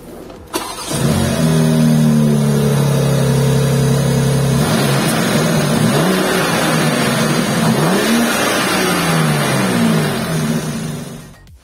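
A 2022 BMW X3M's S58 twin-turbo inline-six, 510 horsepower, cranks and fires with a sharp burst, settles into a loud idle, then climbs through several rev blips before dropping away.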